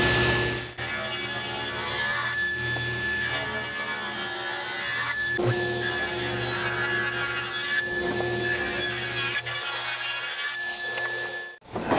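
A hand saw cuts through wood in a workshop while parts for a steampunk Stirling engine are being made: steady, continuous back-and-forth rasping strokes, close and even, with no talking.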